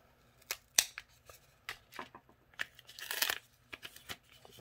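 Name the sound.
opening a mail package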